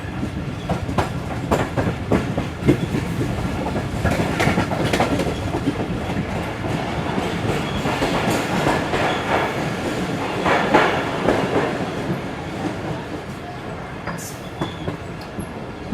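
The Karakoram Express rolls along the rails between Karachi and Rohri in a new rake, a steady loud rumble with rhythmic clickety-clack of wheels over joints throughout.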